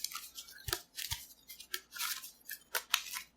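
Quick papery riffles and sharp snaps of a Magic: The Gathering deck being shuffled, several bursts in an irregular rhythm, close and fairly quiet.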